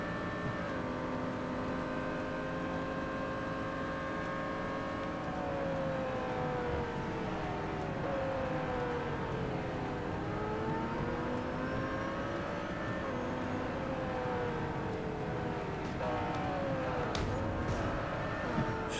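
A race car driven flat out on track during an endurance race: a steady, sustained engine drone with rising and falling pitch through gear changes and corners, loud and continuous throughout, with no talking.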